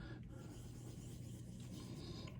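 The Axis lock of a blue G10 Benchmade Bugout knife is polished by hand, producing a quiet, steady, continuous rubbing rasp up close without pauses.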